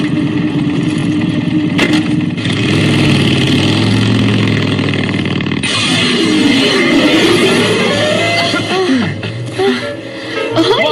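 A motorcycle engine idles and then revs, rumbling loudly and steadily with rising and falling pitch as the throttle is worked, heard close with some speech mixed in.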